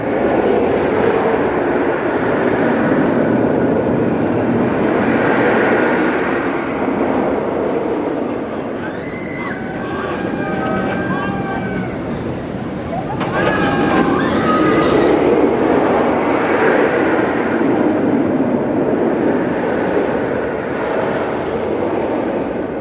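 A Mr. Freeze Reverse Blast roller coaster launches and runs at Six Flags St. Louis, a sustained loud rumble of the train on its track with rising and falling intensity and faint screeches, no talk.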